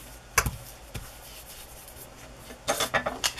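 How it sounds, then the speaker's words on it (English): An old gift card burnishing craft foil laid over tacky glue, a few soft close rubbing and scraping strokes, one isolated then a quick rhythmic series at the end. "Burnish it with an old gift card."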